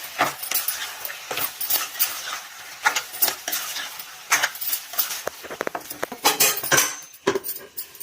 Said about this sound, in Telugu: చాలా మంచిగా కలుపుదాం.